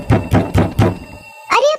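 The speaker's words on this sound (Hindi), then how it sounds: "तभी फिर से कोई दरवाजा खटखटाता है" Four loud, evenly spaced knocks on a wooden door sound close at hand, followed by a short tonal voice-like cry after a pause.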